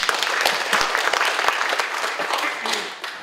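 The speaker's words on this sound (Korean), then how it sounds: "큰 박수 좀 부탁드리겠습니다" Audience applause at a parliamentary forum on the Alddreu–Songaksan peace park: brisk, crowded clapping with sharp individual claps, loud at first and then slowly thinning out over a few seconds.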